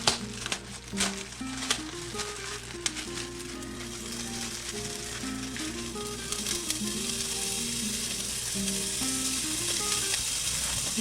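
Sliced steak fries in a hot pan for Pennsylvania-style cheese steak subs, giving a steady, close crackling sizzle that holds throughout, with a soft tonal melody running underneath.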